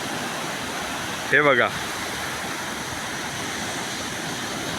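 Surf at Dubbanshishi Beach near Gokarna rolls in as a steady broad wash of breaking waves close by, with a brief spoken remark partway through.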